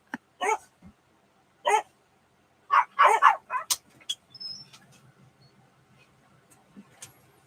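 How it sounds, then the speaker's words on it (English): Two dogs bark indoors in short isolated woofs and a tight cluster of barks, nearby, followed by faint rustling and quieter sounds. "knowing full well these two dogs in here are going to bark"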